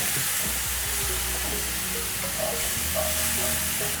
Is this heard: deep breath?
no